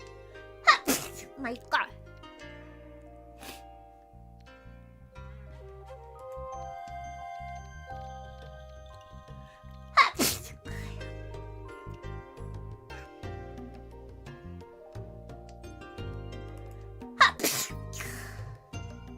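Three sharp sneezes burst out several seconds apart from a person on a livestream, each loud and abrupt against a quiet background with faint chiming tones and a few soft spoken words.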